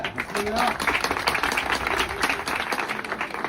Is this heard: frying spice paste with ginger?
no